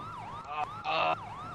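A police car siren in the video game GTA 5 wails in a rapid, repeating up-and-down sweep, loud and near, as a burst of other game noise cuts in partway through.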